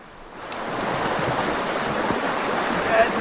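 River water rushes steadily at a wilderness campsite, a continuous broad roar of flow that builds slightly over a few seconds, heard up close with no talking.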